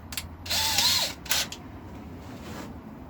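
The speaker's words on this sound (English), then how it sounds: "we want to drill a clearance hole for the screw" A drill bores a clearance hole for a screw through a wooden bracket on a replica K6 telephone box, with two short bursts of whirring and bit grinding close by, then quiet.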